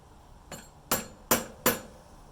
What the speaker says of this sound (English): Now give it a little tap.